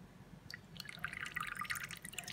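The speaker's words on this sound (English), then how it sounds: "And the next is to add our vegetable glycerin." Vegetable glycerin is poured into a homemade hand sanitizer mix, giving a faint, soft trickle with small drips and liquid splashes in a quiet room.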